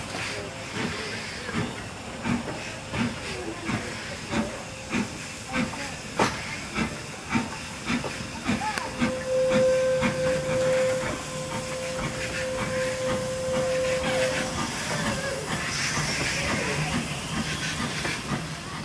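Steam train on a heritage steam railway at Havenstreet, heard from a distance with hissing steam, rail rumble and a long steady whistle tone through the middle, plus rhythmic chuffing puffs early on.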